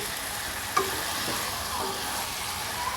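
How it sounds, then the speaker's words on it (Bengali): Chicken curry frying in a pan, being stirred steadily; a soft continuous sizzle with light scraping of the spoon, close and fairly quiet, with no talking. "আমি অনেকক্ষণ যাবত ভালো করে কষিয়ে নিচ্ছি"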